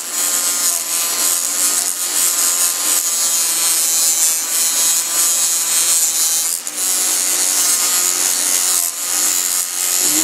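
Old gasket residue is scraped off the metal of an old Suzuki engine with a hand tool, producing loud, continuous rasping strokes in a rough repeating rhythm, close up and with no speech.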